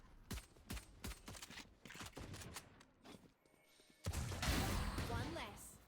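Gunfire in a Valorant esports match: a quiet run of sharp shots and clicks, then a louder burst of firing, all under a commentator's voice.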